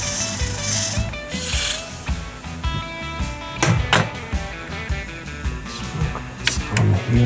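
Electrical connectors being cleaned during work on a car dashboard that has been removed, heard as close ratcheting, scraping and rubbing clicks in uneven bursts, with no speech.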